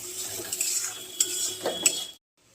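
Pointed gourd paste fries in a pan while a spatula scrapes and clinks against the metal in a few short strokes, close and fairly quiet, ending in silence.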